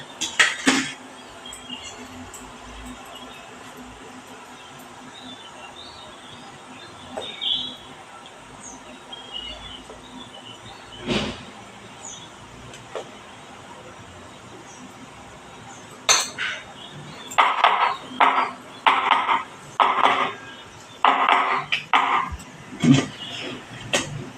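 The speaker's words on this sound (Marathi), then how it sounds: "नेहमी असं टॅप करायचं मॅम म्हणजे हवा जाते आत कुठे असली तर" An idli mould for jowar idlis being tapped to knock out trapped air, producing bursts of sharp metallic clinks and rattles, scattered early and then clustered rapidly near the end, close and fairly crisp.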